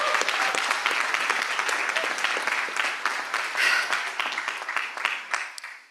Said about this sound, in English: So let's give a round of applause for the hard work we've done.